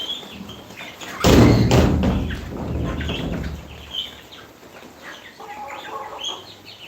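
Chickens cluck on a farm where ducks are also kept, with a loud thump near the start followed by scattered clucks and rustling at close range.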